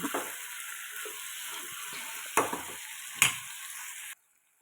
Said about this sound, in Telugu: దాన్ని ఆ ఉల్లిపాయ ముక్కల్లో వేసి వేగనివ్వాలి.